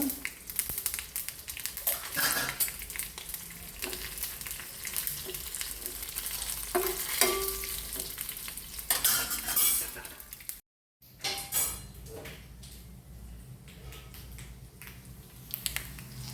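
Mustard seeds and Byadgi chilies sizzle and crackle in hot tempering oil with curry leaves, for a drumstick and toor dal sambar. A spoon stirs and clinks against the pan, and there is a brief silent gap partway through.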